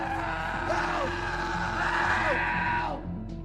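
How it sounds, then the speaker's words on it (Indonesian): A trapped man in a desert canyon yells for help at full strength, one long strained, wavering cry lasting about three seconds before it breaks off. "mencoba berteriak sekencang-kencangnya untuk meminta pertolongan"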